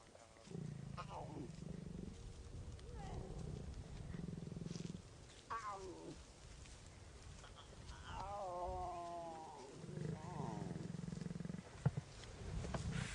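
Lion cubs devouring a kill on safari growl, snarl and roar in close, rough bursts, with a lioness nearby; voices talk over parts of it.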